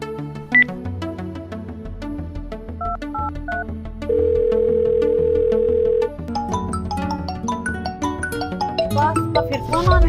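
Electronic telephone tones beep in a melodic pattern, including a long steady tone, over background music.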